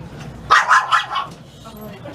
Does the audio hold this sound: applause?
no